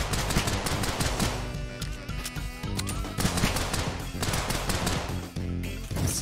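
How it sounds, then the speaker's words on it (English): Dense, continuous rapid gunfire from the video game Unholy Commotion, loud and sustained with overlapping shots and game noise throughout. "Why does it do rapid fire sometimes?"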